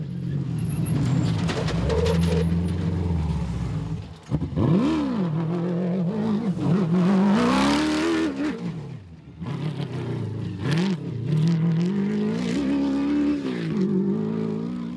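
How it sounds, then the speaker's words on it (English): A Zarco Magnum rally car, first Class P vehicle through in an Atlas Copco Gold 400 event, roars past with rising and falling engine revs and gear changes, loud and close, then fades as it moves away. "The first Class P vehicle through, who else but John Thompson and Maurice Matted in their Zarco Magnum"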